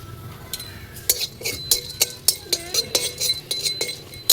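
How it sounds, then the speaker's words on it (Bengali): Whole garam masala dry-roasted in a pan, a series of sharp metallic clinks and scrapes from a spoon stirring the spices at an uneven rhythm, close and fairly faint, with no talking. "সব একসাথে এরকম শুকনো খোলায় ভেজে নিতে হবে ভেজে নিচ্ছি গরম মশলা কটা ভেজে নেবো"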